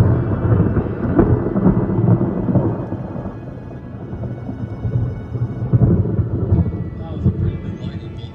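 Low rolling thunder rumbles in waves alongside rain during a storm out sailing on a boat, with a voice talking over the stormy noise.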